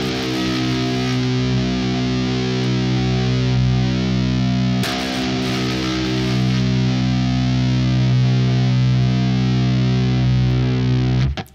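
Heavily distorted electric guitar tuned to drop C, playing a sustained low chord that rings loud and alone for several seconds, briefly re-struck midway, then cut off.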